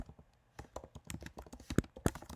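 Typing a font name on a computer keyboard, a rapid run of close, crisp key taps with a couple of heavier strokes near the end, faint and alone.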